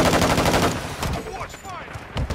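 Rapid automatic gunfire in Call of Duty on the Shipment map rattles loud and close in a dense burst, then thins into scattered shots and game effects, with some talk nearby.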